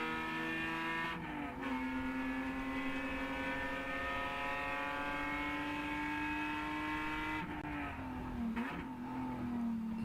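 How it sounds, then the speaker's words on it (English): Endurance race car climbing a hill at Watkins Glen, engine droning loud and steady in one gear, with sharp pitch drops at gear changes near the start and end. "You can really hear the car digging into that asphalt as they drive up the hill."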